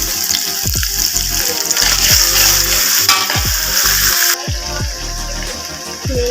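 Loud, steady sizzling of chili frying in a hot pan, with a continuous crackle and occasional stirring scrapes and clinks.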